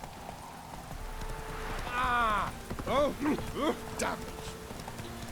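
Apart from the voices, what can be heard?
horse Roach galloping in The Witcher 3 video game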